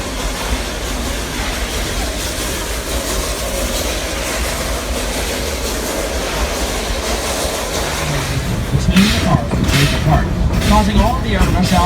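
A narrow-gauge steam train with Shay or Heisler locomotives passes, rumbling steadily with rattling wheels, and a burst of louder clanking and hissing near the end; voices are faint underneath.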